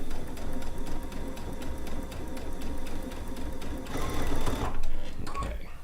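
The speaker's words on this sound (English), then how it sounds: "I'm just going to start stitching." Sewing machine stitching fabric with a fast, steady mechanical chatter close by, a brief pause and a louder burst near the end, a voice speaking over it.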